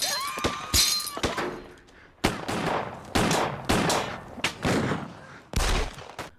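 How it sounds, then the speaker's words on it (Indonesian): Film shootout with repeated loud gunshots in irregular bursts, sharp close cracks separated by brief gaps, with some crashing and breaking impacts mixed in and no talking. "aksi baku tembak pun gak bisa dihindarkan"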